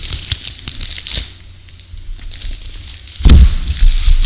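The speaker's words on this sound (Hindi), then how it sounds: "तो मैं इसे अनबॉक्स अपने हाथ से ही करूँगा। चलिए इसे अनबॉक्स करते हैं और देखते हैं कैसा आया है।" Packaging on a parcel holding a Zebronics K24 keyboard is torn open by hand, giving loud bursts of tearing and crinkling, a quieter pause, then a heavy rip near the end.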